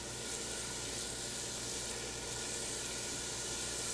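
Diced green pepper, half a pepper's worth, sizzles steadily in a hot pan, a continuous close frying hiss with no pauses and no voices.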